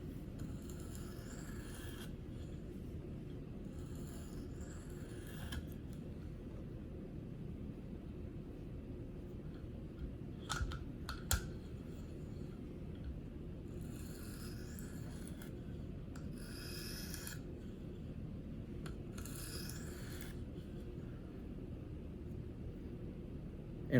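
A Gerber Paralite knife blade is drawn across a KME sharpening stone. Faint, dry rasping strokes come in short bursts with quiet gaps between them, close by and soft overall.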